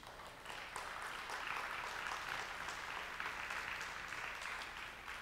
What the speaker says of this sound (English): let's give an applause for the music department